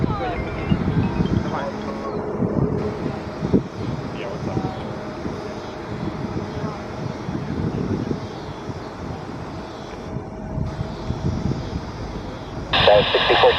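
A heavy four-engine Antonov An-124-100 Ruslan cargo jet takes off from runway 10L at Chicago O'Hare, its engine roar loud and steady throughout, blended with wind noise and crackly air traffic control radio voices.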